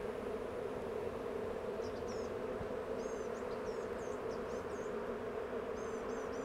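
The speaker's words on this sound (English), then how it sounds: "So see how all these bees are fanning?" A dense, steady hum of many honeybees buzzing and fanning together close by in a hive yard, continuous and even throughout.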